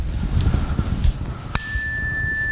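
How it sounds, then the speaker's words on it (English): A single bright bell strikes once over a soft room murmur, its clear metallic tone ringing on and slowly fading as it sustains for over a second. "Sound of the bell,"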